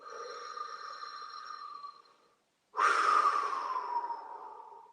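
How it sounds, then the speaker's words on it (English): Two long, deep breaths during a guided breathing exercise, each a steady airy rush close to the microphone, separated by a short silent pause before the second, stronger exhale. "Let's take a deep breath in and empty out."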